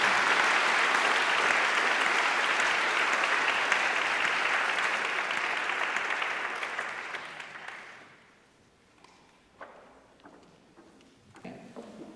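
An audience applauds speakers at a community event, sustained loud clapping for about seven seconds that fades out, followed by a few scattered knocks and shuffling sounds.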